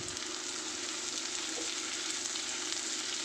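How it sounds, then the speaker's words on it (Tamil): Onions, green chillies and curry leaves sauté in a pan for a salted Madurai-style mutton fry. A continuous soft, even sizzle carries through the whole stretch, quiet and unbroken, with no speech. "இப்போ கருவேப்பிலை சேர்த்து நல்லா வதக்கிக்கலாம்"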